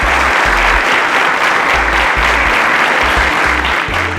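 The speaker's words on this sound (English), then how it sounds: "Wow, a round of applause for Tunde" An audience gives a student a loud, dense round of applause that fills the whole stretch steadily and close, with a low pulsing bed of background music underneath.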